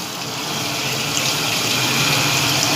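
Tap water gushes steadily into a container to soak urad dal for idli batter, a close, continuous splashing rush that grows slightly fuller as the vessel fills.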